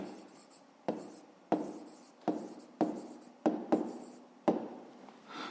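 A pen writes an answer by hand on paper, giving a soft close-up scratching broken by about seven sharp taps and strokes in an uneven rhythm, with no speech.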